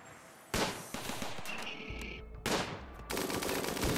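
Gunfire in the video game RimWorld, bursts of rapid, clattering shots in several loud waves with brief gaps between them, heard close and without talk.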